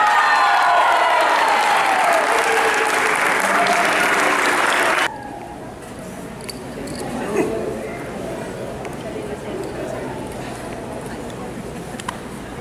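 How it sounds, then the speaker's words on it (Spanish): Crowd applause at a summer tournament football final between Real Mandril and Nueva Alianza: about five seconds of loud, dense clapping, then an abrupt drop to a quieter crowd murmur with voices and a few scattered claps. "Un fuerte aplauso para Nueva York."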